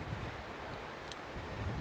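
Waves of the South Pacific Ocean wash in as a steady broadband surf roar, mixed with wind buffeting the microphone, continuous and moderately loud.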